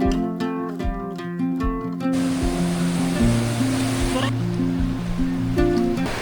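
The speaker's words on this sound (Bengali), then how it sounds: "অসম্ভব বড় ঢেউ, কি দারুণ একটা মুহূর্ত।" Big ocean waves roll in on the beach at Cox's Bazar, a broad steady surf roar. Loud music with a strong melodic line plays over the wash throughout.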